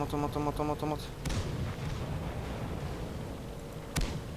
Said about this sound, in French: Pour le moment, on tire des petits obus sur des gens.